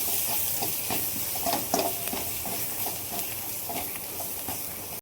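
Black and red chili powder dry-roasts in a pan as mutton masala is prepared. A steady, soft hiss runs throughout, with scattered scraping and stirring clicks close by.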